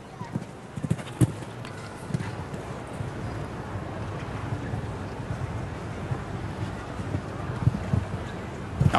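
A show jumping horse's hooves thud on the arena course during a competition, soft muffled beats scattered under outdoor wind noise and faint crowd ambience, with a commentator talking now and then.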